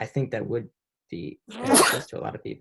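A single loud sneeze bursts out during a community meeting, between stretches of a person talking.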